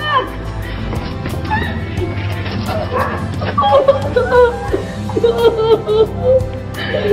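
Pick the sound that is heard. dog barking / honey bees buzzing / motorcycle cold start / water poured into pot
dog barking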